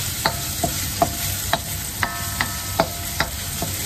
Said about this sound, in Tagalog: maiinit na po yung mantika natin, eh, magigisa na po tayo